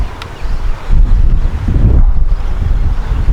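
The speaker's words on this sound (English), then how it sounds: "is it having trouble fighting the wind?" Strong wind buffets the microphone during a Hubsan ZINO drone flight, a steady low roar that swells loudest in the second half, with no talking.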